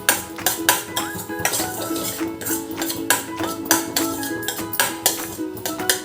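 Semolina roasting in ghee while a metal spoon stirs it, giving rapid, rhythmic clinks and scrapes against the pan over a faint frying hiss, close and fairly loud with no talking.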